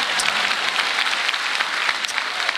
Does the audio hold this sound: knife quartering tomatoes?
no